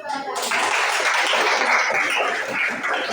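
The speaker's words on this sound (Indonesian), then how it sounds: "tepuk tangan untuk teman-teman" A classroom of students breaks into sustained applause for their classmates. A voice is heard briefly at the start, and the clapping stays dense and fairly loud to the end.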